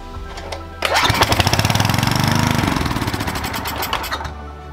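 A small engine, dosed with carb cleaner, cranks with rapid rhythmic chugging, catches and runs loud and close for about three seconds before cutting out, with no talk over it.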